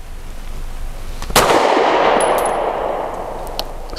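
A Canik METE MC9 pistol fires 138 grain hollow points: one sharp, loud report rings out with a long fading tail, followed by faint clinks and small taps.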